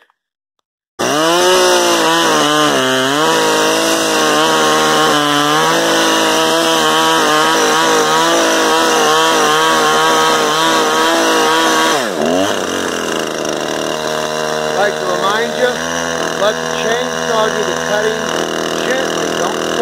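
A chainsaw runs loud and close, its engine revving and bogging as it cuts through a wooden anvil stump, then dropping to a rougher idle near the end.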